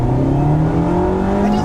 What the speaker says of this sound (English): I do love that induction note.